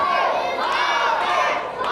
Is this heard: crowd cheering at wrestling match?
yes